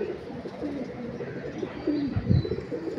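Rabbit-eyed pigeons kept by a pigeon fancier in Lucknow coo in soft, low, repeated throaty phrases, fairly close, with a fuller burst of cooing near the end and no talking.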